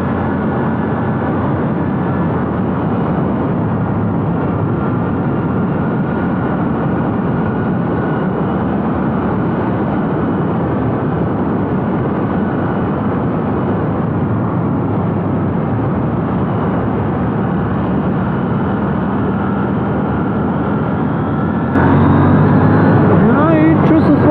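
A 2020 KTM Duke 890 motorcycle pulls hard into third gear in road mode: a loud, steady engine drone mixed with heavy wind rush that holds for many seconds, then shifts in tone near the end.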